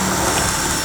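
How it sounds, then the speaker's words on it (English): A drill boring a guide hole for a rivet and press stud, heard as a close, steady whirring grind. "we want to go ahead and drill our hole"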